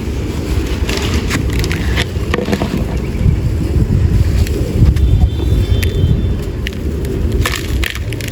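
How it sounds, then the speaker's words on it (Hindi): Strong wind buffets the microphone outdoors, a continuous rough low roar with gusty surges and scattered gritty rustles, no talking. "हवा बहुत तेज़ चल रही है।"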